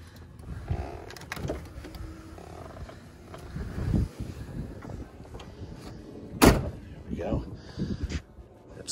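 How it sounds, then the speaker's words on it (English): A power window slides down on a 1994 Cadillac Fleetwood lowrider, a low motor whir mixed with clunks and thumps while someone talks throughout. "Let me roll the window down here."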